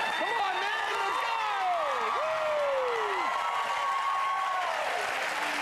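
A crowd applauds steadily throughout while voices cheer and whoop over the clapping, loud and sustained.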